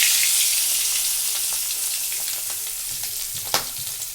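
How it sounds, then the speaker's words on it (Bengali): Pabda fish fry in hot oil with a loud, continuous crackling sizzle, a few soft stirring taps and one sharper clack toward the end. "দেখো টকবক করে ফুটছে কিন্তু মাছটা"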